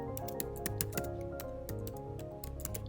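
Computer keyboard keys clack in a quick, uneven run of soft taps as an email address is typed, close and quiet with no voices.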